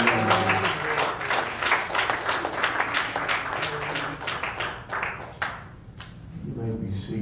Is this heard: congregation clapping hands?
yes